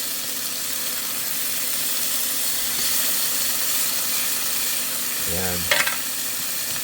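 Vegetables and sardines sizzle and fry in a pan with a steady, close hiss, and a short scrape of stirring comes near the end. A voice says one brief word.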